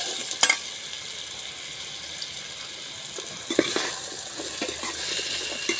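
Mango pieces and cashews cook in a pan with a continuous gentle sizzle, broken by occasional clinks and stirring scrapes, a few louder knocks near the start and again midway.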